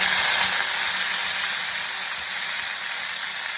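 Mint leaves frying in oil in a kadai, a steady close sizzle and hiss with no pauses, loud from start to finish and with no voices over it.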